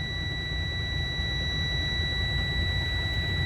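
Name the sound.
truck air brake low pressure alarm buzzing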